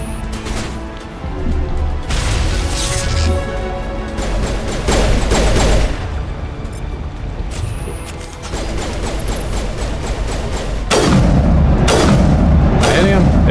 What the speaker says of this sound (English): I have a shitty shotgun